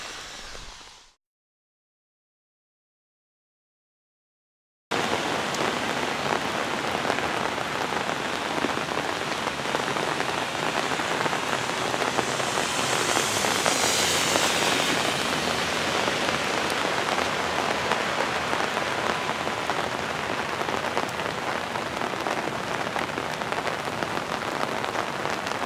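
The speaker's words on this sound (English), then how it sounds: "There, you can see there's a lot of rain water pouring off the parking lot." Heavy rain pours steadily outside a church, with water running off a parking lot in a dense, continuous hiss. It starts after a short silent gap and then holds loud and unbroken, with no voices.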